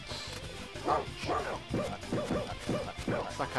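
A dog barks in a series of short yips and woofs in the Spider-Man vs Kingpin Sega CD video game, faint and game-like beneath background noise.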